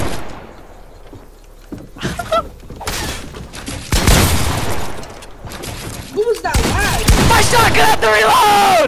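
Shotgun blasts in a video game, several loud booming shots spread through a busy stretch of game sound, with a person talking over part of it.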